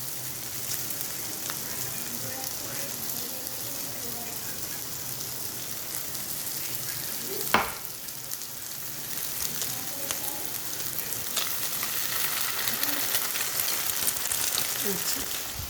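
An egg frying in a pan of cashews, tomato and cucumber for chirar pulao, a steady close sizzle with a sharp clink partway through, the frying growing slightly louder toward the end.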